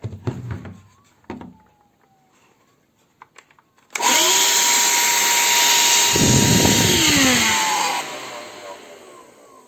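After some clicks and thumps, the small motor of an Erbauer EVAC18-LI cordless vacuum cleaner, suspected faulty, whirs up loudly to a high, steady whine and keeps running, its pitch wavering slightly near the end.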